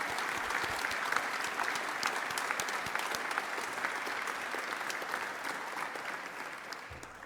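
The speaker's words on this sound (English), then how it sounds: "can I ask for a huge round of applause in appreciation for your team from the Toronto Region Board of Trade" A luncheon audience at a Toronto Region Board of Trade event applauds in a dense, steady round of clapping that holds evenly throughout and tapers at the very end.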